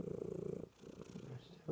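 A cat purrs while curled on a person's lap during a cuddle, the steady rhythmic rumble loud and close for a moment before fading under soft nearby rustling.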